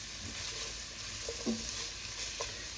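Onions and bacon sauté in a pan on the stovetop, a soft steady sizzle with a couple of faint stirring scrapes, no voices.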